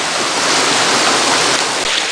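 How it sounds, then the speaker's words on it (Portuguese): The Gurita waterfall on the Araguari river roars as a dense, steady wash of falling water, loud and close with no break. "Mais uma vez aqui da Cachoeira da Gurita, tem aqui o rio Araguari"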